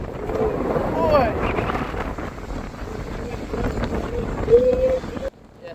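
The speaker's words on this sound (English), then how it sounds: "It is windy today, boy." Wind at Iron Pier beach on a windy November day, buffeting the microphone in loud gusty rumbles, with people talking over it until it cuts off near the end.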